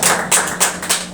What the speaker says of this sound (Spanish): Denle un aplauso a Dios si está agradecido con esta palabra.